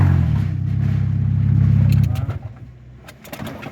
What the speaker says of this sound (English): The muffler is broke. It starts. It just won't stay running.